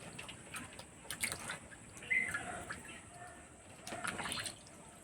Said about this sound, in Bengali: লাউগুলো এরকম সুন্দরভাবে ধুয়ে নিতে হবে।